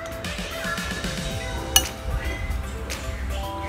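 Seasoning is stirred into rice in a bowl for homemade kimbap, giving light utensil clinks against the bowl, with one sharper clink midway, over a faint tonal background.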